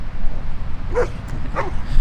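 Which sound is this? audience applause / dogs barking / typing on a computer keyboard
dogs barking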